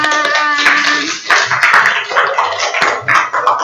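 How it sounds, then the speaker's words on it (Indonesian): An audience in a classroom setting breaks into bursts of hand clapping, loud and close, with the clapping rising and falling in uneven waves over a few seconds and a voice speaking briefly at the start. "Ya, tepuk tangan."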